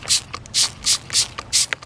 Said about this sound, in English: every other week I spray some weed killer on it